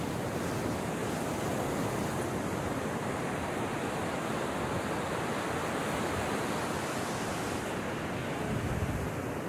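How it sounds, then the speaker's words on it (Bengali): Big ocean waves break on a beach in a continuous, loud roar of surf with steady wind noise on the microphone. "দেখো কত বড় বড় ঢেউ"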